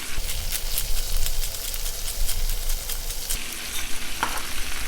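Pan sauce of filet mignon juices with soy sauce and pepper sizzles and spits while being stirred, a busy crackling hiss with scraping strokes that eases off briefly before picking up again.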